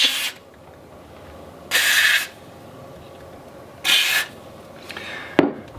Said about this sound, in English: So now I'm going to go ahead and spray this out again.